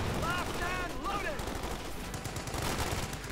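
Browning-style machine gun fire in a World War II strategy video game match, a dense continuous rattle of rapid bursts mixed with other battle noise, and someone commentating over it.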